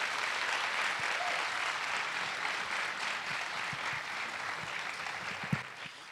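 A conference audience at an indie game festival in Mexico applauds after a talk, dense sustained clapping from a full room with a few sharper claps standing out near the end.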